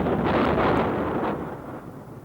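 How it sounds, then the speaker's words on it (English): A BLEVE explosion of a fire-weakened LPG pressure vessel: a single loud, broad roaring blast that rumbles and slowly fades over about two seconds, with no voices. "Boiling Liquid Expanding Vapor Explosion."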